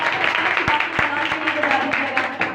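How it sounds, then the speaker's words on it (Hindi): A congregation at a Hindi-language Christian ministry service claps loudly and continuously, a dense wash of applause with a few sharp accents while a voice carries on over it. "जितनी बरकत मिली है जोरदार तालियां"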